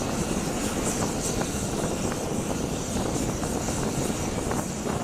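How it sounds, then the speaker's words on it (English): An airplane takes off into fog, its engine a loud, steady roar with propeller-like pulsing that stays constant and close throughout. "This plane looks like it disappears when taking off into the fog"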